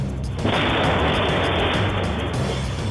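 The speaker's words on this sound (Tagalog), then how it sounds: "Tangke ng LPG sumabog, mag-ina nalapnos." An LPG tank explosion caught on CCTV: a sudden loud broadband blast that roars on continuously, dense and heavy, filling the whole clip without any talk.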